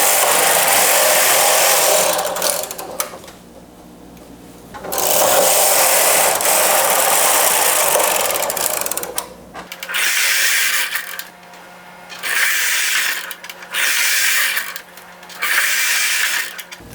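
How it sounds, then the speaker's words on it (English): A knitting machine knitting straight rows of a simple drop-shoulder sweater with weights attached, its carriage making loud rasping sweeps back and forth, several passes separated by short quiet pauses. "now I'm going to knit 60 rows straight up"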